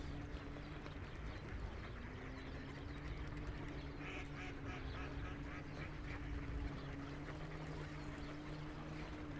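Ducks quack on sunlit water in Helsinki's Kallio district, scattered calls rising over a constant hum of outdoor city ambience, with steady tonal droning and clattering in the background.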